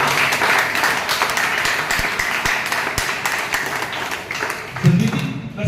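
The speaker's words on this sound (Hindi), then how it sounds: "तो सतवीर जी के लिए जोरदार तालियां हो जाएंगी।" Sustained crowd applause at an Independence Day celebration in Bahadurgarh, India, with dense clapping, fairly loud and steady throughout, and a murmur of voices underneath.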